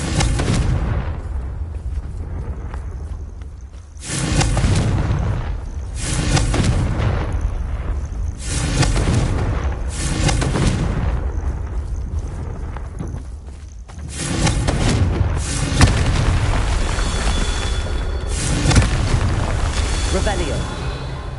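Repeated explosive spell blasts in the video game Hogwarts Legacy, deep booming bursts recurring every few seconds over game ambience, with a voice speaking throughout.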